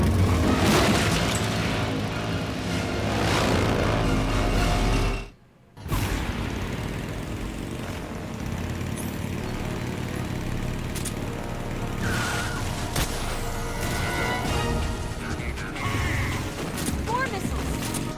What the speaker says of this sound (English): More missiles!